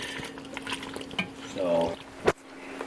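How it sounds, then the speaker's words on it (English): Pasta being stirred in a pan, close scraping and light clinks with a faint sizzle, ending in one sharp utensil knock. "Now you just want to mix it around in there, make sure that it gets all over the pasta"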